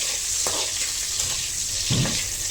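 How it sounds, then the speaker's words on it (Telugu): Food fries slowly in a pan over a low-medium flame, a steady soft sizzle close by with a couple of brief stirring scrapes. "ఇప్పుడు వీటిని సిమ్లో, మీడియం ఫ్లేమ్లో సిమ్లో మనం స్లోగా వేయించుకుంటూ ఉండాలి."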